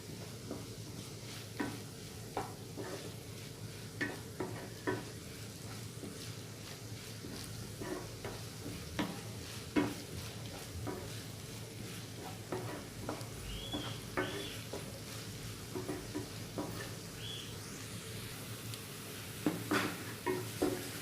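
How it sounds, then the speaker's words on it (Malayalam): Onion, garlic, ginger and green chili sauté in a pan for mutton curry, a low steady sizzle broken by frequent soft clinks and scrapes of stirring, close and fairly quiet throughout. "അപ്പോൾ നമ്മുടെ സവാള, വെളുത്തുള്ളി, ഇഞ്ചി, പച്ചമുളക് എല്ലാം നന്നായിട്ട് വഴണ്ട് വന്നിട്ടുണ്ട്."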